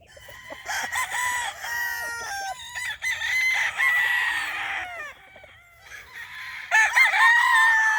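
Chickens on a mountain farm with a sloping yard, a rooster crowing several times in long rising calls amid hens clucking nearby, fairly close and clear with no talk over it.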